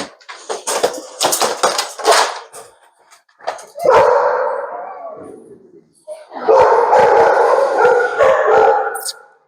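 A dog gives loud, repeated barks, yips and howl-like cries in two bursts with a short lull between, up close and mostly alone, with only a trace of human voice.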